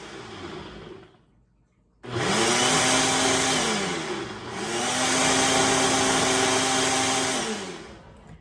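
A blender grinds hemp seeds and sesame seeds into a dressing in two loud, steady bursts. The motor whirs up and holds its pitch each time, after a brief quieter pause.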